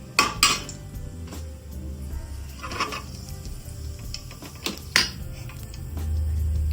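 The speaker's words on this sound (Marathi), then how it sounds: "न्ही तितून हांव सासवां घालता" Mustard seeds tossed into a hot pan for a Goan-style eggplant pickle, giving several sharp clinks and metallic clatters at close range, with quieter scraping in between.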